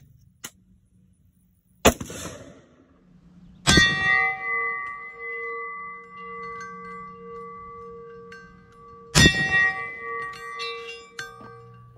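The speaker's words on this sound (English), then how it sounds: "we're about 75 yards away from the target, and we're going to shoot it with 55 grain first." 5.56 rifle rounds strike a steel plate at about 75 yards. Sharp gunshots are followed by loud metallic clangs, and the plate rings on with a long bell-like tone after two of the hits.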